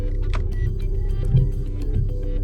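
Front windshield wipers running on a Volkswagen Passat B, heard from inside the car as a steady motor hum under a low engine rumble, with faint periodic swishes and a soft thump partway through.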